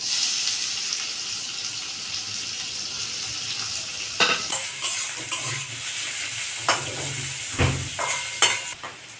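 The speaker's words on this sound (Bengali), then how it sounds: "এবার আমি পেঁয়াজ কুচিগুলো ভেজে নেবো তেলে দিয়ে" Steady hiss of onions frying in hot oil, with intermittent stirring scrapes and a clank of a spoon against the pan near the end.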